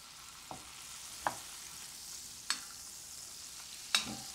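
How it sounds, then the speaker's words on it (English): Butter heating in a hot pan for brown butter with sage, a soft, faint sizzle with four sharp clinks or stirs spaced a second or so apart. "We're going to start by adding our butter to a pan that's nice and hot."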